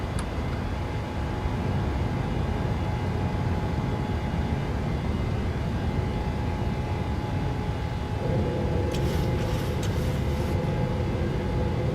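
A Southwest airliner climbs out after takeoff from Ontario in Microsoft Flight Simulator, with a steady, loud engine roar and rumble that shifts in tone partway through. No voices are heard.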